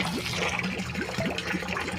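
Dirty water drains out of a fish tank in a steady close wash of trickling and gurgling, with small bubbly blips over a continuous liquid hiss.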